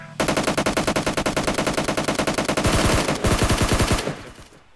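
Automatic gunfire in the PUBG Mobile game, rapid sustained bursts of loud close shots in a steady rhythm for several seconds, with no talking.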